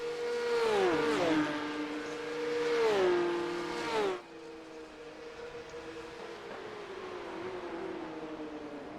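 Porsche Cup race cars at Silverstone roar past loudly with engine pitch sweeping through gear changes, then a sharp cut leaves a steadier, more distant engine drone continuing.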